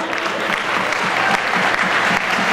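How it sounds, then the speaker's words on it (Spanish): Loud, dense applause from a crowd at a ceremony opening an under-14 volleyball qualifier in Jacobacci, sending off the flag bearers; steady close clapping throughout with no pause. "Las despedimos con un aplauso."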